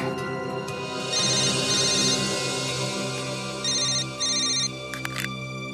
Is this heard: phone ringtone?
yes